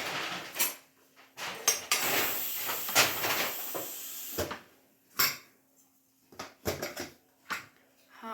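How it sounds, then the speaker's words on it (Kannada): Steam escapes from a pressure cooker being opened in a home kitchen: a series of sharp hissing bursts, some short and one longer sustained hiss, separated by quiet gaps, close to the microphone. "ಕುಕ್ಕರ್ ಓಪನ್ ಮಾಡ್ತಿದ್ದಾರೆ"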